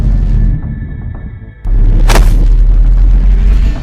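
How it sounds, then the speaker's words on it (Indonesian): A sharp gunshot-like boom bursts out at about two seconds in an animated drama set in a forbidden forest, followed by a loud, rumbling sustained roar over low background noise; no one speaks. "Uco, lo dengar suara tembakan gak?"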